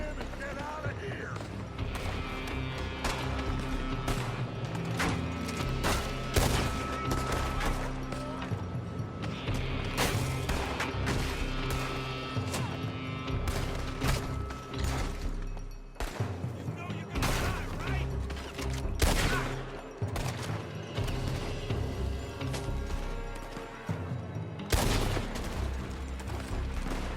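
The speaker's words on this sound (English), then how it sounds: "They're shooting from that building!" Gunfire rings out in a shootout in the video game Red Dead Redemption 2, with repeated sharp shots and bursts over game music and sound effects, and voices shouting in between.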